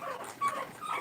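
A puppy whimpers in thin, high, wavering whines that run almost without a break for about a second, fairly close but not loud, with no talking over it.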